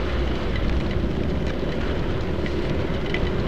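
Rain pelting an action camera without a waterproof case while riding through a traffic jam, a dense, continuous patter and rumble of spray and road noise, loud and unbroken.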